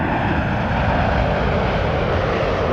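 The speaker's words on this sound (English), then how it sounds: "Dreamliner off" A Boeing Dreamliner jet taking off at Toronto Pearson Airport, a loud, broad, steady engine roar with no talk over it.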